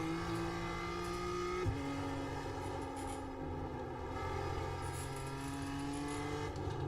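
A race car engine drones steadily at high revs throughout, its pitch dipping sharply once as it shifts, then climbing gradually again, loud and continuous, in a racing video game at the Charlotte Roval.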